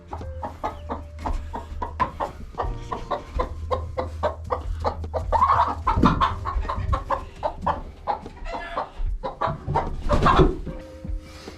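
Hens cluck steadily in a backyard coop during spring cleaning, a dense run of close clucks and squawks with a few louder calls near the middle and end, with no talk.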